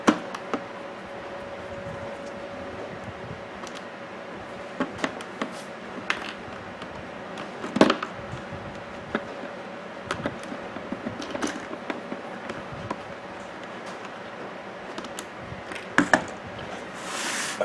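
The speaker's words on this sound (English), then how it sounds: "Three more screws left to remove." Screws being backed out of a clock's back cover during repair, a close run of small creaks, ratcheting clicks and metallic taps over a faint steady hum, with no talk.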